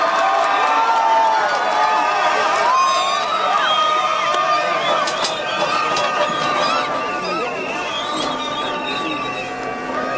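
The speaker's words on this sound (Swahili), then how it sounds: "Makofi." A large outdoor crowd at a groundbreaking ceremony in Kisumu cheers and claps continuously, a loud, dense wash of voices and whoops with people talking throughout.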